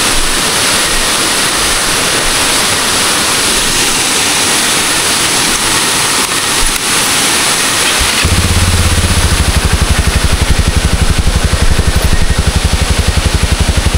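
Motorcycle engine idling and revving at low speed while backing up beside a roaring waterfall, the engine's steady pulsing joining the constant rush of water partway through.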